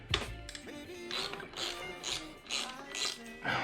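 A 10 mm socket wrench ratchets in several short, rhythmic clicking bursts close up while loosening the side cover of a Honda Fury motorcycle, quiet and without talk.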